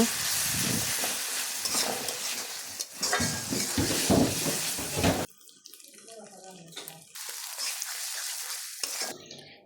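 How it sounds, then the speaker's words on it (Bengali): Ginger-garlic paste and stone-ground dried chilli sautéing in a pan, a loud spitting sizzle with stirring scrapes, then quieter gaps broken by renewed frying bursts. "এখানে আদা রসুন বাটা তারপর আমি যে শুকনা মরিচ আর কি পাটায় বেটে রেখেছি তো ওইটা আর কি পুরাটাই দিয়ে দিলাম"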